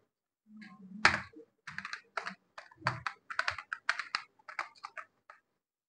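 Rapid, irregular clicking of keys on a computer keyboard, typed in short bursts with brief pauses, close and clear with no talking.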